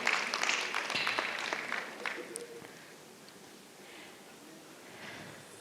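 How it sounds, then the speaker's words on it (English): An audience applauds at a teacher awards ceremony in a hall, dense clapping near the start that gradually thins and fades to a softer patter. "Let's applaud him as he ascends the stage"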